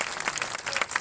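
Spectators at a Roman theatre gladiator training show applaud the fighters, a short burst of crowd clapping with distinct individual claps standing out.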